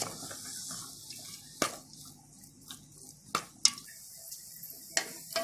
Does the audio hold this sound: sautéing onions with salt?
yes